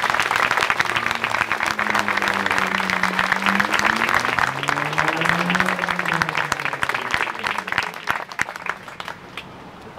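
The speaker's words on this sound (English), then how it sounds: "Let's give them a round of applause." Outdoor crowd applauding veterans, especially Vietnam veterans, at a Vietnam War monument dedication in New Rochelle, New York: steady, dense clapping for about ten seconds with a voice speaking over it, then thinning toward the end.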